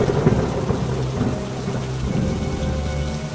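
Heavy rain pours steadily during a thunderstorm, a dense continuous hiss with low rumbling thunder rolling underneath throughout, close and enveloping, with no voices.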